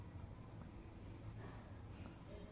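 Pen writing by hand on paper while working out the volume of a cube for a class 10 maths lesson, a soft continuous scratching close by with no talk over it.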